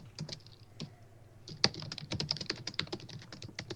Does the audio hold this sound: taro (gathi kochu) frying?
no